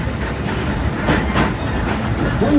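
Frisco Silver Dollar Line steam train rolling along the rails with a steady, close clickety-clack of wheels and a broad rumbling roar, loud and continuous with no talk.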